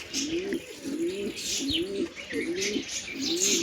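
Pigeons cooing in a loft, a steady run of five or six rolling low coos at an even rhythm, close and clear, with faint chirps and background noise around them.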